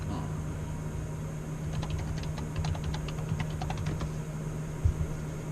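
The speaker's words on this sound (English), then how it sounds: "Keyboard." Faint, rapid keystrokes clatter on a computer keyboard at a PC setup inside an RV. The typing runs for a couple of seconds over a steady low hum.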